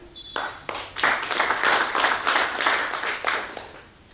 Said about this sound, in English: So, another applause.